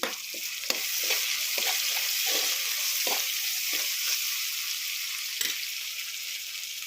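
Chicken fries and sizzles in a pan with ginger garlic paste and salt, a constant hiss broken by several sharp stirring scrapes and clicks, close up with no talking.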